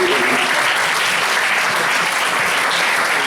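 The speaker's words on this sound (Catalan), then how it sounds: "Un aplaudiment, sisplau, Francisco." A theatre audience gives a dense, loud round of continuous applause for a guest at a live comedy monologue show, the clapping filling the room without a break.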